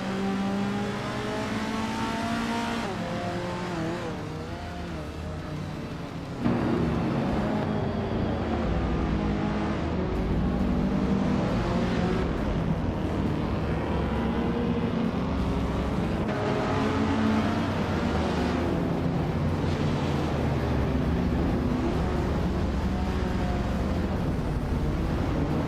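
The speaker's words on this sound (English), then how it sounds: "the race kicks off at Los Arcos Rallycross with the vintage slow cars" Vintage cars, including a 1966 Lotus Cortina, race at Los Arcos Rallycross: several engines drone and rev continuously with overlapping shifting pitches, rising louder after a few seconds and staying steady and close.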